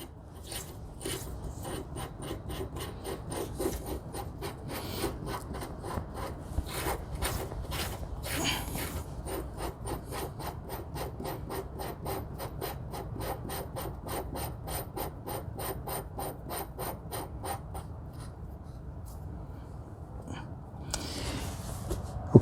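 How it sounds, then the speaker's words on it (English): A metal nut spun by hand onto bolt threads during a rear brake pad replacement on a Honda TRX 250 ATV, giving a steady run of quiet, rapid ticking, ratchet-like clicks for about twenty seconds, close and alone. "I'm just going to lightly spin that to make sure it's in the threads and not cross-threaded."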